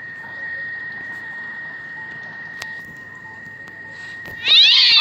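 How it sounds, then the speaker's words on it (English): In a horror video game, a steady high electronic tone hums beneath faint background noise, then a sudden loud cat meow bursts in at the very end. "Stupid cat!"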